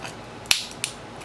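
Solder sucker button released while desoldering an NES game cartridge board, a sharp snappy spring click followed by a second smaller click, close and alone.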